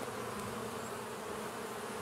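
Honey bees buzz steadily and densely throughout during a hive inspection, a continuous near drone with no talking.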